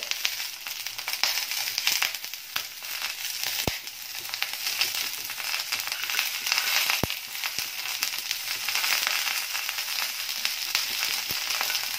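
A white onion roasts directly over a medium gas flame, turned to char on all sides. A steady, close hiss and sizzle runs throughout, broken by a few sharp pops and crackles.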